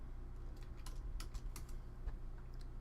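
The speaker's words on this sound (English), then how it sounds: "I'm just typing this in for kicks." Soft, close keystrokes on a computer keyboard, a handful of separate clicks tapped at an uneven pace in a quiet room, with no voices.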